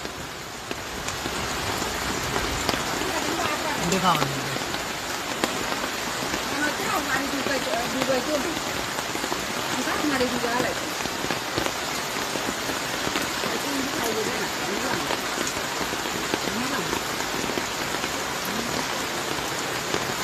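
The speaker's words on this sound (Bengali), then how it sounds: "আকাশে প্রচন্ড বৃষ্টি" Heavy rain pours down steadily and loudly during flooding in Feni and Noakhali, a dense, unbroken hiss of drops on surfaces throughout.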